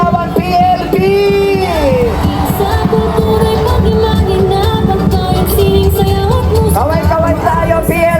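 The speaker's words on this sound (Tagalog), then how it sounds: "Isang malakas na palakpakan at hiyawan, PLP!" A loud crowd at a Pasig Day street parade cheers and shouts, with whoops and yells rising over a dense, continuous babble of many voices close by.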